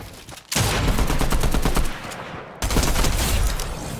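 Rapid gunfire in the video game Fortnite, loud bursts of repeated shots starting abruptly, breaking off briefly, then resuming as a dense volley.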